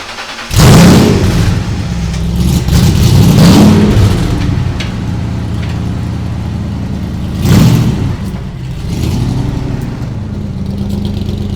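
A loud car engine revs hard and roars as it accelerates, easing briefly before a second surge, then holding a steady drone.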